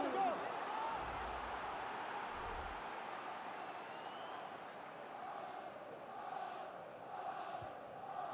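Football stadium crowd in the video game FC25, a steady roaring wash of cheering and chanting from a large crowd, sustained throughout at moderate level as the home fans rally.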